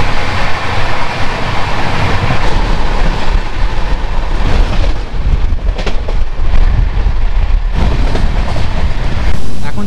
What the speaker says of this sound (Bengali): মালদা টাউন ক্রস করার পরেই 110-11 স্পিডে ট্রেন হচ্ছে ছুটে চলেছে ঝড়ের গতিতে